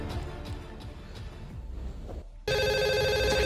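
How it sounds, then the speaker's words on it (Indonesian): A telephone rings with a bright, buzzy electronic tone that bursts in loudly after a quieter stretch of background noise, continuing steadily to the end. "Profesor mendapatkan telepon dari Raquel."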